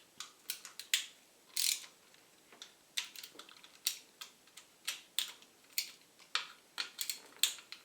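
Screws on the lower timing belt cover of a Porsche 968 engine being loosened, a series of sharp metallic ratcheting clicks and ticks in irregular bursts, close and fairly quiet, with no talking.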